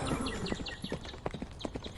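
Horses' hooves clip-clop in a quick, galloping rhythm as a sound effect within a told folk tale about riding off on the devil's horses, the steady beats close and layered over a busy background.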